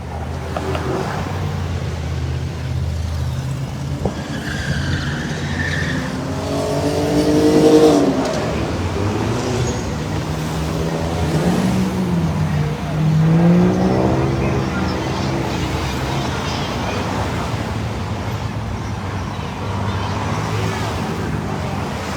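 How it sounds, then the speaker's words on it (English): Traffic flows through a Milwaukee intersection as cars and motorists pass in steady waves, engines swelling and fading at close range beneath continuous voices and crowd talk. "we are just surrounded by waves and waves of vehicles and motorists"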